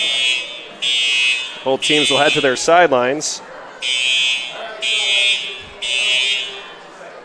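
A fire alarm sounds at a high school football stadium, repeating loud, steady electronic buzzer blasts in regular pulses, while a voice over a public address speaks between them.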